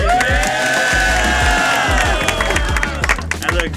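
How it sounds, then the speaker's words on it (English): A crowd of kids and adults cheers and applauds for a child accepted to a school, loud mixed shouting and clapping with voices rising and falling throughout. "Give him a round of applause."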